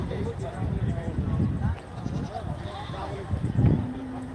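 Goats bleat at the crowded Gabtoli cattle market in Bangladesh during Eid ul-Adha trading, repeated calls rising over loud, constant crowd chatter and market bustle.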